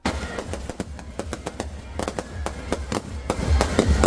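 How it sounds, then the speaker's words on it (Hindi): Firecrackers burst at a Ravan Dahan Dussehra celebration in Kushinagar, a rapid, irregular string of sharp cracks and pops that keeps going throughout, some close and loud, others further off. "कुशीनगर में किस तरीके से पटाखों की आवाजों के साथ रावण दहन हुआ"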